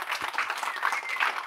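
A studio audience gives a brief burst of clapping, soft and steady over about a second and a half.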